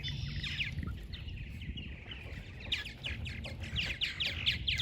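Purple martins, the largest swallows, chatter in a steady stream of bright, rapid chirps and warbling calls, fairly close and continuous, with busier bursts of overlapping notes toward the end over a low rumble of background noise.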